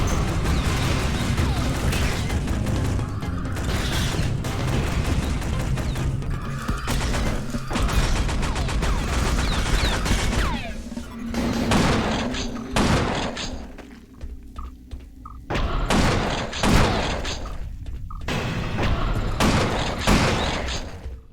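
Weapons firing in the sci-fi shooter Space Beast Terror Fright, a dense, loud barrage of blasts and crashing impacts throughout, thinning briefly into sparser separate bangs midway before the volleys build again.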